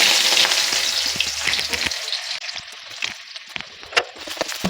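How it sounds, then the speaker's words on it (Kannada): Chopped onions dropped into hot oil for vegetable noodles, a loud hissing sizzle that begins at once and gradually settles into crackling and scattered pops, close up with no talking. "ಎಣ್ಣೆ ಕಾದಿದೆ, ಈರುಳ್ಳಿ ಹಾಕ್ತಾ ಇದ್ದೀನಿ"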